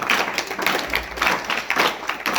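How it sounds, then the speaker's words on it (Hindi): Brisk clapping from a school audience at an Independence Day event, a steady patter of hands with slight rhythmic swells, close and fairly loud. "शोर वाली तालियां होनी चाहिए"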